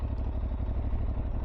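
A 2024 Aprilia Tuareg 660 motorcycle rolls at slow speed, its engine giving a steady low pulsing thrum with a faint clattering beat, heard close and unbroken for a moment.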